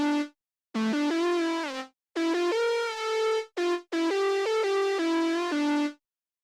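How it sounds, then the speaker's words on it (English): A UK hardcore synth lead plays a bright, buzzy melody of sustained notes with a wobbling pitch vibrato, alone and loud, in several phrases separated by short silences. "So now we've got a wobbly sound. There's a little bit of vibrato in the sound."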